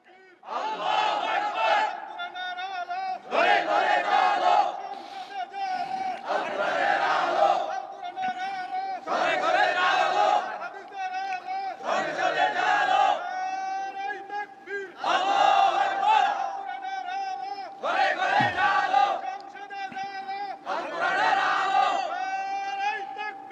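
A large crowd at an Islamic sermon gathering roars the takbir in unison, a series of loud, drawn-out chanted shouts rising and falling in repeated waves for over twenty seconds.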